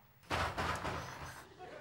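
A single sudden bang as a gate is slammed or thrown open nearby, with a short rumbling tail that fades over about a second in an otherwise quiet setting.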